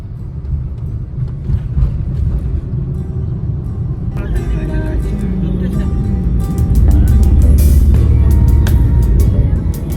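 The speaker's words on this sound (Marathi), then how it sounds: "मला असं वाटतं आता ट्रॅफिक लागलं आहे ना रे" Road traffic rumbles steadily around an IT office campus in Pune, with cars and heavier vehicles droning and passing close by while people talk over the noise, growing louder toward the end.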